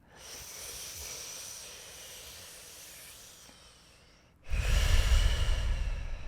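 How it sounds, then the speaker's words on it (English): Slow breaths drawn in and pushed out over a flat tongue during a Kundalini yoga breathwork exercise, a long soft hissing inhale followed by a louder, rushing exhale, close and alone. "The tongue is flat. Inhale and exhale over it."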